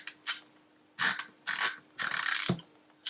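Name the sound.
90-tooth ratchet wrench clicking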